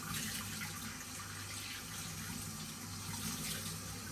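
Cold tap water runs steadily into a sink, a constant soft splashing rush with no pauses and no voices.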